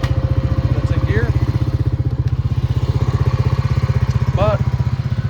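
A rebuilt Honda Rancher 350 ATV idles a bit high, with a loud, even, rapid chugging that holds steady throughout. Faint bird chirps come through in the background.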